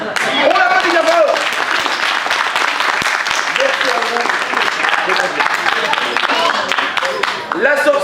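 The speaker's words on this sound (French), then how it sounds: "On l'applaudit bien fort" A storytelling show's audience claps for a volunteer named Andrew in a sustained, loud, dense burst of applause, with a performer's voice briefly heard over it near the end.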